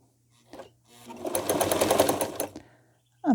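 A sewing machine stitches through raw wool in one quick burst of rapid, evenly spaced needle strokes lasting about a second and a half, close and clear, with short quiet gaps and small clicks around it.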